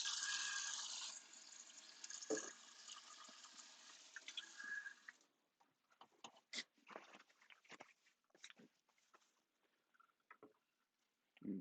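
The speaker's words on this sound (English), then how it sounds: "Just wash my hands." Water runs from a kitchen tap for about five seconds while hands are washed under it, close and steady, then cuts off, followed by scattered clicks, wet rubbing and handling noises.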